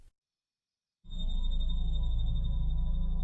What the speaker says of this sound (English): A low hum, barely audible, seemed to emanate from the heart of the woods